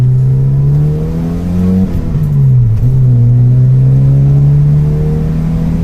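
A warm Ford XR3i engine idles with a steady low hum, then revs up and drops back before holding a strong, even drone, loud and close.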